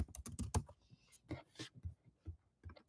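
JavaScript code is typed on a computer keyboard in quick, close, quiet bursts of clicking keystrokes with short pauses in between, and no voice over them.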